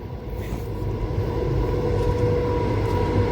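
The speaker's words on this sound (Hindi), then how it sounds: "ये मालगाड़ी आ रही है" A heavy Indian Railways freight train rumbles past close by, a steady low roar with a faint high squeal running through it and no voices.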